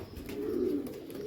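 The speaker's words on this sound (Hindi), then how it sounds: "और ये देखें ये आया हुआ है कबूतर" Soft, steady cooing from a pigeon held close by, a low throaty call rolling on without a break for a little over a second, with no talking over it.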